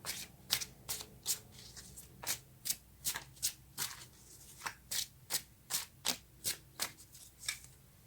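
A deck of tarot cards is shuffled by hand: a close, quiet series of about twenty crisp riffling bursts in a fairly steady rhythm, with brief pauses and no speech.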